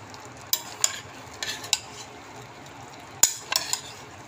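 Pinakbet vegetables stirred in a pan, a few sharp spoon scrapes and clinks in short bursts over a faint background sizzle, no talking.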